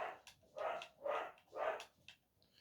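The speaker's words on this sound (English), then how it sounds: "that dog never shuts up" A dog barks four times in a steady rhythm, fairly close and loud, with a fainter fifth bark trailing off at the end.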